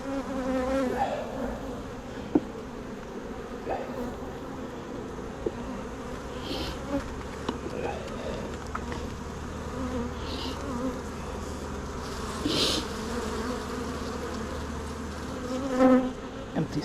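Honeybees buzz steadily around an open beehive during an inspection, a dense, close hum with individual bees droning past, occasional handling knocks and scrapes, and no clear speech.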